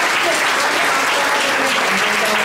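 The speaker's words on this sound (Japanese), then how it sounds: "警備員さんが良かったから拍手。" Applause from an audience at a security guard sparring event, dense and continuous clapping filling the whole moment at close range, with no voices over it.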